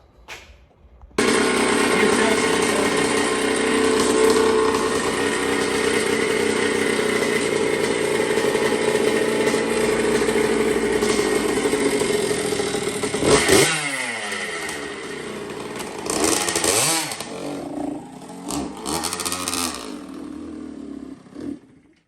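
A small motorcycle found in a shed starts up and runs at a steady buzzing idle, then revs and pulls away. The engine note rises and falls and fades as it rides off.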